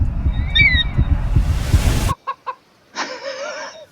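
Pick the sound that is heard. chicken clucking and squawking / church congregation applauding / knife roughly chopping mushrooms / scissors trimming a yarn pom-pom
chicken clucking and squawking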